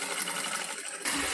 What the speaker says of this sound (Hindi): अब इस पे मैं सिलाई लगाना स्टार्ट करूंगी।